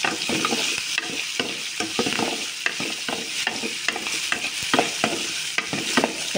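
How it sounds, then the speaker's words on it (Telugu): Chopped green chillies and ginger frying in a pan crackle and sizzle steadily while a spoon scrapes and stirs in a quick, uneven rhythm, close and fairly loud, no voices. "సరే ఇవన్నీ వేగుతున్నాయి"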